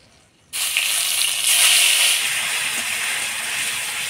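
Onion paste dropped into hot oil with whole garam masala of cinnamon, cloves and cardamom, bursting from quiet into a loud, close, continuous hiss and sizzle that holds steady to the end.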